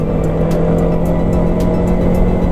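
An RS motorcycle runs in a road race, its engine a loud, steady close drone with a constant pitch, joined by faint repeated ticking clicks throughout.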